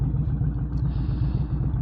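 Indian motorcycle fitted with a Tab Performance 2-in-1 exhaust, cat delete, BAM 6 and zombie baffles, giving a loud, deep, pulsing rumble that holds steady throughout with no talk.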